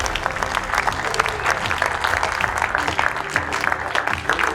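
A crowd at a Paris poker tournament main event applauds the qualified players, a steady dense patter of many hands clapping with faint crowd murmur underneath.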